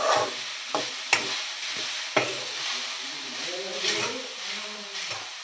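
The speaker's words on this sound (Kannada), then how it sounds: "ಈಗ ಇದನ್ನು ಚೆನ್ನಾಗಿ ಫ್ರೈ ಮಾಡಬೇಕು." Green okra (bhindi) frying in a little oil with salt and tamarind, a light steady hiss under several sharp spatula scrapes against the pan, close and moderately quiet with no talking.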